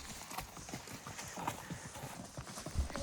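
A mule's hooves clip-clop on a mountain trail in Montana, a steady walking rhythm of close, even hoof strikes, with a short snort near the end.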